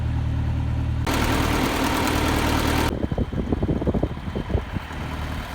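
A tractor engine runs close by on a cattle farm, a steady low drone, followed by a rougher, pulsing chug as it works.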